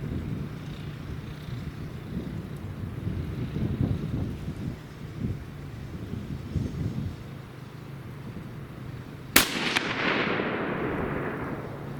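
A single sharp rifle shot at a milk jug target, fired from a rifle after a tracer lodged in the barrel, cracks out once near the end against steady outdoor wind noise and then echoes and fades.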